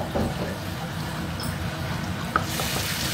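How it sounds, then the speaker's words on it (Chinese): Minced garlic frying in hot oil in a wok, a close steady sizzle with light stirring scrapes and a small clink, and a voice speaking over it. "我们烧热油，爆香蒜米末"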